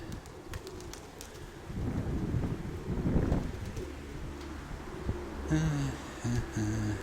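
Soft, low cooing from a steel-grey speckled pigeon rises near the end over steady wind noise and rustling outdoor ambience, with no talking.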